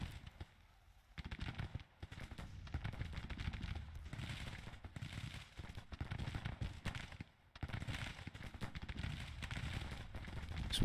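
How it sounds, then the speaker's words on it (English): Cannon fire from Civil War artillery batteries in the strategy game Grand Tactician: The Civil War, a steady crackle of overlapping bangs and rumbling reports continuing throughout with brief lulls. "Just make sure our artillery is still firing"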